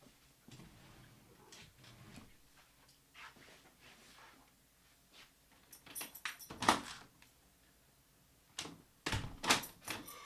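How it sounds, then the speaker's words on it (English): A house door is opened to let an upset cat out, heard as quiet handling clicks and knocks followed by louder latch and door clatters, close and without talk. "I'm just going to open the door for the cat because he's very upset."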